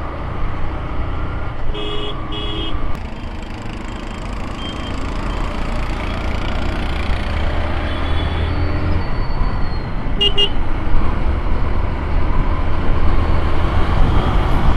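Short motorcycle horn toots in heavy Coimbatore traffic: a double honk near the start and a brief beep later, over a steady rumble of engines and road noise.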